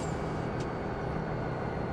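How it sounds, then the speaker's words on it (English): A train engine slows down in the video game Farming Simulator 17, giving a steady, dense rumble with a low hum that holds evenly throughout, with no talking. "train engine slowing down here."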